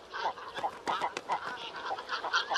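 A nesting colony of great cormorants calls in a dense chorus of growls, croaks and clucks, rough overlapping cries rising and falling continuously at moderate distance.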